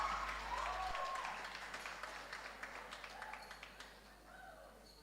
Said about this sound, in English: Clap them, clap them.